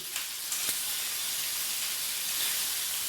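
Frozen sausages sizzle and hiss steadily in a pan, a dense, even spray of crackling that stays close and constant without a break.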